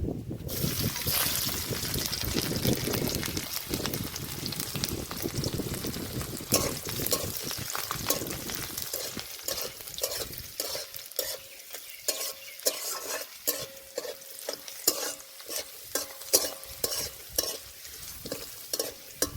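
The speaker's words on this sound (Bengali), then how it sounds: "রসুনটা লাল লাল করে ভেজে নিয়েছি" Garlic fries in hot oil in a pan, a close, loud, steady sizzle with stirring scrapes and clinks of a utensil against the pan that grow more distinct and rhythmic toward the end.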